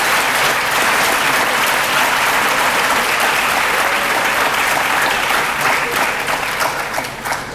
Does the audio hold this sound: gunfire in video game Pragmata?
no